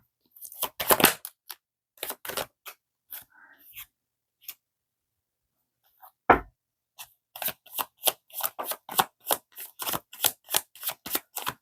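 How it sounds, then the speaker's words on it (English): Tarot cards being shuffled close up in quick riffling bursts, an early cluster, a few isolated flicks and a sharp snap, then a long run of rapid rhythmic shuffles near the end, with no speech. "it wouldn't shuffle for me."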